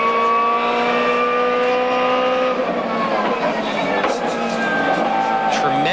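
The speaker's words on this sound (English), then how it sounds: "Listen how noisy it is inside those cars. Yeah, whining transmission." Inside a BMW M3 GTR race car during the 2001 Petit Le Mans at Road Atlanta, a loud steady mechanical whine of the transmission with engine drone, echoing in the metal cabin and shifting pitch partway through, with a voice talking over it.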